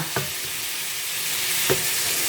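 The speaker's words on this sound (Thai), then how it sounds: "ขอทอดให้มันสี น้ำตาลก่อน" German-style food frying in a pan until browned, a steady loud sizzle with a couple of faint utensil scrapes and stirs, no voices.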